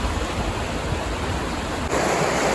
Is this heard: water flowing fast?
yes